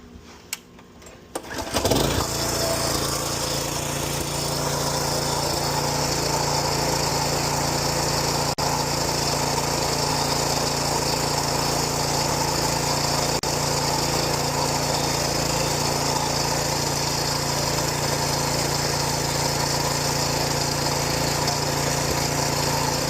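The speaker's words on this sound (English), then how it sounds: "So what we're going to do is we're going to turn the lawnmower on." A TruCut 27-inch reel lawn mower's engine starts after about two seconds of quiet, then runs at a steady, loud, close drone for the rest of the clip, with no talking.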